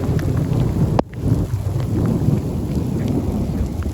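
Thunderstorm near Springdale by Zion National Park in Utah: steady rain patters throughout while a single sharp thunder crack strikes at about one second, followed by a low rumble that fades back under the rain.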